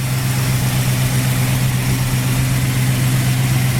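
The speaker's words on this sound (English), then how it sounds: "This might only be a 318 engine, but it runs great." A 1970 Dodge Challenger's 318 small-block V8 with a four-barrel carburetor and aftermarket exhaust idles steadily up close, a loud, even low rumble with no talking.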